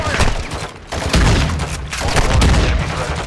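Gunfire in the video game Call of Duty Modern Warfare 2 DMZ, a loud dense fusillade of overlapping shots and booming thumps that fills the whole moment, up close and continuous.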